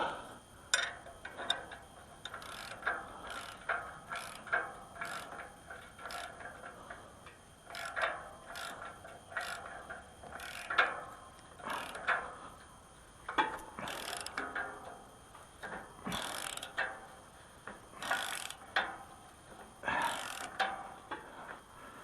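A wrench ratchets on a lock washer nut in steady bursts of quick metallic clicks, repeated again and again at close range, with brief pauses and faint background hum.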